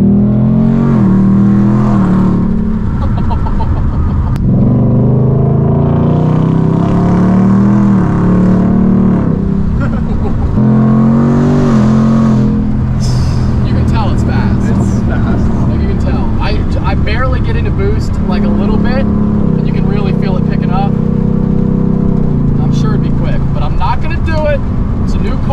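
A Jeep built for off-roading revs and pulls hard under heavy throttle, its loud engine roar rising and surging close by while someone talks over it.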